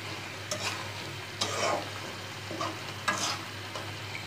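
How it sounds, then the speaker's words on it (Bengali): Fish pieces sautéing in a pan, with a steady low sizzle and several bursts of stirring scrapes spread through the clip. No one talks. "আমার মাছগুলো সুন্দরভাবে কষানো"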